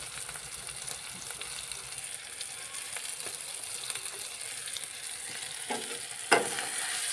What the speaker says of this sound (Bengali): এখন আমি এর ভিতরে ভেজে রাখা মাছগুলো দিয়ে দিব।